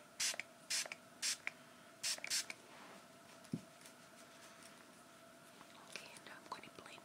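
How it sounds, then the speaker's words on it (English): Several short bursts of a unicorn-scented setting spray misted onto makeup, close and crisp with quick pauses between them, followed by quieter soft handling sounds. "I'm going to wet this now with my unicorn spray again."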